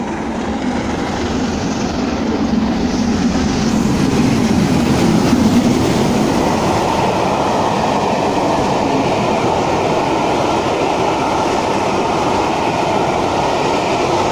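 Steam locomotive 45690 Leander thunders past at St Helens Junction at about 70 mph, a loud, close, continuous roar of rolling wheels and carriages filling the whole span without pause.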